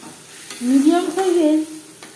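Ginger paste, green chili paste and tomato paste stirred in a frying pan for a vegetarian paneer dish, a soft sizzle with a brief scraping stir in the middle, close and fairly loud.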